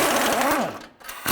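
A power tool whirs briefly while a 21mm socket spins the lower control arm nut off a 2003-2007 Cadillac CTS. A short, near mechanical burst rises and then cuts out.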